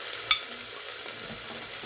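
Burgers shallow-fry in a pan on the hob, giving a steady bright sizzling hiss with one sharp spattering pop early on and a smaller splash later.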